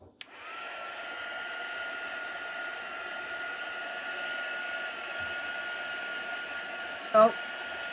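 A heat gun runs during a chalk craft session, a steady close whooshing blast of air that holds for the whole stretch, with a brief click near the start and a short bump near the end.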